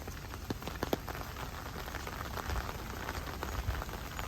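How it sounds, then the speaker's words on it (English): Heavy rain pours steadily on outdoor surfaces at a U.S. naval base in Yokosuka, Japan, a dense, continuous hiss with scattered louder drops and no voices. "As you can hear, it's raining heavily, the sounds of rain."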